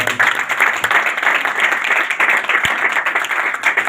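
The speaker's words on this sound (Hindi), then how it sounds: "उस यीशु के लिए जोरदार ताली" Church congregation breaking into loud, sustained applause, dense crowd clapping close and continuous for several seconds with no speech over it.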